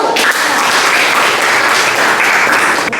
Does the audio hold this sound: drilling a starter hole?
no